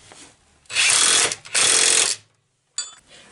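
Power tool tightening a bolt and nut on a Renault Twingo clutch job, two loud sustained whirring bursts of about a second each, then a brief faint tail after a pause.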